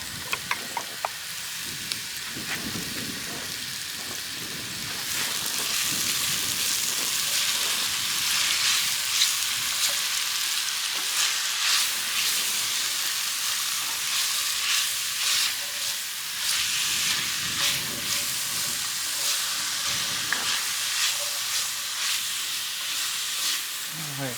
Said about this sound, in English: continue to cook this up a little bit until the onions become a little bit more translucent